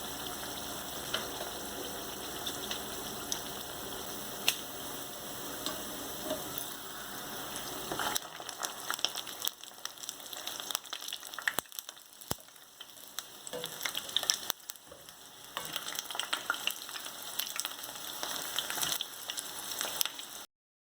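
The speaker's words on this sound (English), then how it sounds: "You want to ensure your fritters are fried golden brown on both sides" Banana fritters frying in a pot of oil, a steady, crackling sizzle that carries on without pause, with small pops scattered through it, close by and with no voices.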